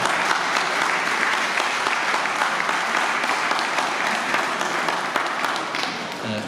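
Steady, dense applause from an audience filling a hall in Dijon during a July 13 political address, loud and sustained throughout, easing slightly near the end.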